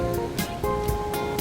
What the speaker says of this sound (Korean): 어마어마까지는 아니지만 파도가 아주 세네요.